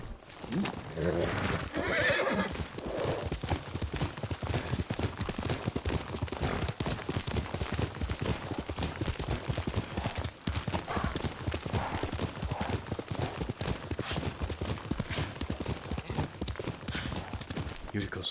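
A horse in the Ghost of Tsushima video game, steady clip-clop of hooves and a loud close neigh early on, with a man calling out and speaking over the hoofbeats.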